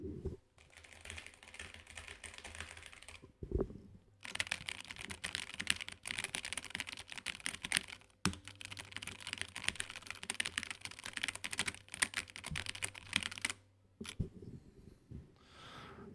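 Fast, continuous typing on a Mountain Everest 60 mechanical computer keyboard, close and crisp, with dense clacking keystrokes in long runs separated by brief pauses and a couple of louder key thumps.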